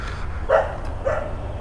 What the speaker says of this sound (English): Please ignore the dog bark.